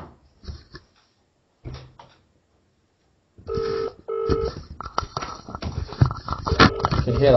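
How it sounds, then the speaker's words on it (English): A phone call being placed, with a few faint beeps and rustles followed by a steady electronic dialing and ringing tone that pulses in a regular pattern, close and moderately loud. "Right, it's just dialing now."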